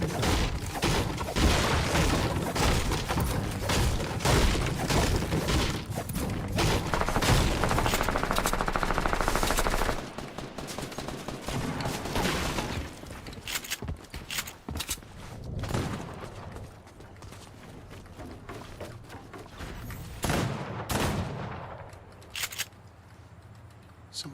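Dense, rapid video game gunfire rattles almost continuously, with bursts of automatic fire and a few booms, easing into sparser shots toward the end.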